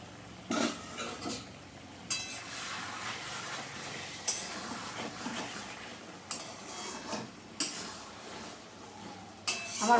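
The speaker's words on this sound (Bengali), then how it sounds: "ঢাকনা খুলে দেখে নিই কেমন হয়েছে।" Metal pot lid lifted and set down while ridge gourd curry cooks, a few sharp clinks and scrapes of cookware spaced out across the moment, fairly close and moderately loud.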